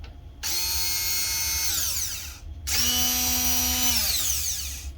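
A NutriBullet immersion stick blender whirs up twice in high-pitched bursts, each a couple of seconds long, spinning down in pitch as it stops; close and fairly loud.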